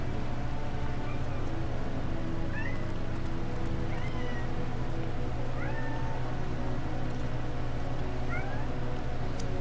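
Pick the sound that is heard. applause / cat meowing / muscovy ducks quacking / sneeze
cat meowing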